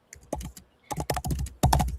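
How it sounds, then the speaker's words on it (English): Rapid bursts of typing on a computer keyboard during a live stream, clattering keystrokes in quick clusters with short pauses between, fairly close and clear with no talk over them. "Who's typing?"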